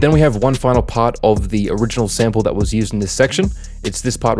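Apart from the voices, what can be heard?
None of the usual background noises is heard.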